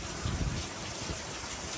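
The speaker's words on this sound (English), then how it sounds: "Look how much rain we're getting." Heavy rain pours down on a farm just after the wheat harvest, a dense, steady patter and hiss on surfaces, fairly close, with no talking.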